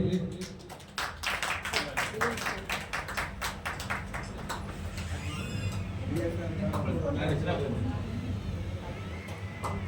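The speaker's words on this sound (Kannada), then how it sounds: "ಚಪ್ಪಾಳೆ ಬರಲಿ." Applause from the audience at a Kannada award ceremony and karaoke event honoring achievers, with a burst of dense clapping at first that thins to scattered claps, while people talk over it.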